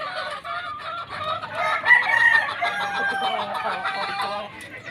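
A golden boy sweater gamefowl broodstag rooster crows once, close and clear, with a long drawn-out call over faint farmyard background.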